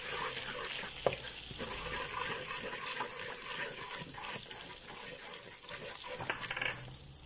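Leftover chilli mixture is stirred in a hot pan, a steady sizzle with scraping and wet churning throughout, close and fairly loud.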